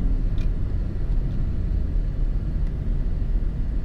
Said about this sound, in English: So just driving in drive mode right now.